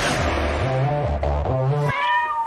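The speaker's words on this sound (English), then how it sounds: "You got a lot of cats." Several cats meowing close and loud, a run of drawn-out, wavering meows one after another with barely a pause, no talking over them.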